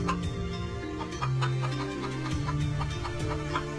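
Hens cluck and murmur continuously nearby, with a steady low warbling and occasional sharper clicks.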